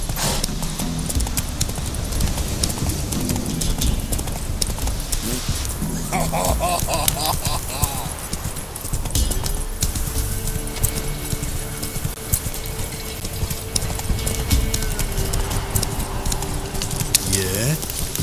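Hooves of Geralt's horse Roach galloping in The Witcher 3, a long steady clip-clop rhythm with occasional whinnies, mixed with game ambience and a voice.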